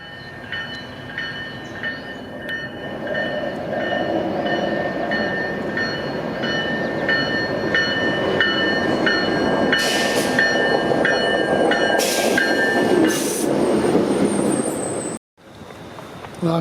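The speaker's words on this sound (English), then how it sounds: "And now I get on the GoTrain." A GO Train commuter train rolls along the rails in Toronto with a steady rumble and rhythmic clatter, with high squeals and tonal whines over it before a brief cutout.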